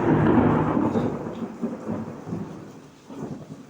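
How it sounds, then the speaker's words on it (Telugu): Heavy rain pours steadily while deep thunder rolls loudly at first and then fades into a lower rumble over the continuous downpour. "మా దగ్గర ఫుల్ వర్షం పడుతుంది."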